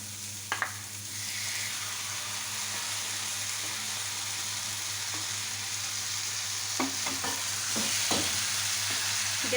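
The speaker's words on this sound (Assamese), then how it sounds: "আৰু এতিয়া আমি ইয়াতে বেঙেনা পোৰাখিনি মিলাই দিছোঁ" Roasted eggplant being mixed in a frying pan over a gas flame for baingan bharta, with a steady close sizzle and occasional scraping strokes of the spatula against the pan, no voices.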